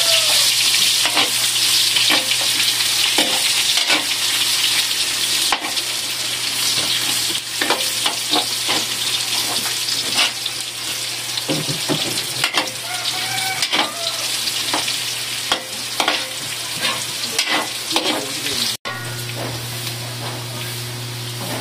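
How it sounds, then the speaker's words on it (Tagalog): Ingredients for pansit are sautéed in a pan, giving a loud, continuous oily sizzle with repeated scraping and stirring clatters of the utensil against the pan, close up and sustained throughout. "si Mama ay mag-chigisa na ho"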